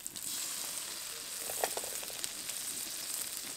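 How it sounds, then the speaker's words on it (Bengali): Ginger-garlic paste and ground spices for mutton curry fry in hot oil, giving a steady close sizzle and crackle throughout, with a few brief stirring scrapes near the middle. "আবারও কিছুক্ষণ ভালো করে ভেজে নেব।"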